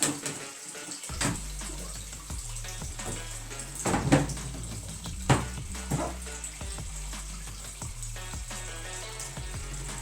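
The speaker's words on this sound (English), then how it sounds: "You can see how it is washing the clothes, turning upside down, swirling them until the clothes will be finally clean." An Armco washer-dryer combo agitates a load of clothes, sloshing water and swirling laundry with soft thumps and splashing surges over a steady motor hum, close and without speech.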